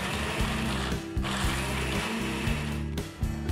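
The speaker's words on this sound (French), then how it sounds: "Puis à l'aide de votre robot, mixez le tout le plus finement possible." A food processor grinds almonds with sugar for homemade almond paste, a loud, steady motor whir with a rhythmic, rattling pulse running throughout.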